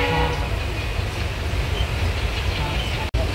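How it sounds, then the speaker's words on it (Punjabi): A passing train rumbles steadily and loudly near Sri Ganganagar in hot weather, a dense continuous roar that fills the whole stretch and cuts off abruptly for a moment near the end. "ਦੂਸਰੀ ਟ੍ਰੇਨ ਆਈ ਹੋਣੀ ਸਾਡੀ ਚੱਲੀ ਟ੍ਰੇਨ"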